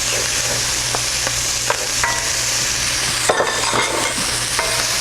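Mapo tofu stir-fries in a hot pan with fermented black beans, black bean sauce and red pepper flakes, giving a constant loud sizzle broken by scattered scraping and clicking stirs.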